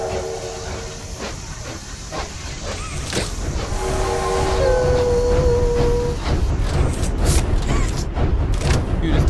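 A train ride in the video game Poppy Playtime Chapter 2 hisses with steam and rumbles along, with a steam whistle tone sounding in the middle, loud and close; a voice speaks briefly over it.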